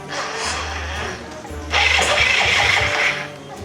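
A car engine cranks on a racetrack, a low starter whirr churning for a few seconds, pausing briefly, then cranking again with a harsher, louder grind without catching.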